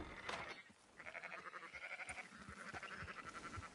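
Sheep bleating in the video game Red Dead Redemption II, a run of wavering nasal calls over a quiet outdoor ambience, fairly faint and without talk.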